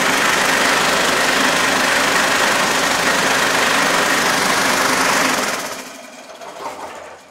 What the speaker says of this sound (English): Should we turn this on to give them an atmosphere of what it's like when you're using the restroom with the tumbler on?